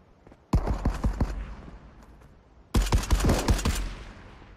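Two loud bursts of rapid gunfire in the video game Marauders, each a quick string of sharp shots ringing out, separated by a short pause.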